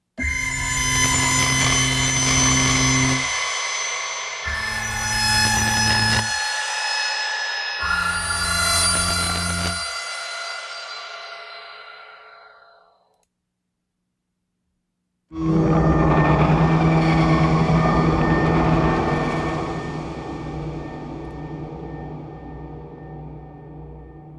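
A sustained, buzzy synthesizer drone, loud and harmonically rich, chopped into stuttering bursts before fading to silence, then swelling back in steadily.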